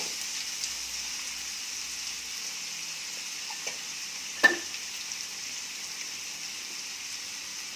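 Carrot, potato and bean pieces in a pan, a faint continuous hiss of cooking with a few soft scrapes and one sharp knock of a spoon against the pan.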